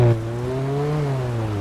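A car engine in Grand Theft Auto roleplay holds a steady, close revving drone, its pitch rising slightly, then easing back over under two seconds with no voices.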